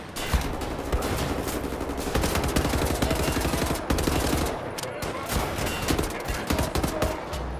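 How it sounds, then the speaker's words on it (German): Rapid bursts of automatic gunfire in the video game Wolfenstein: The New Order, loud and dense, with sustained machine-gun rattles broken by a few brief pauses. "Wir schießen hier."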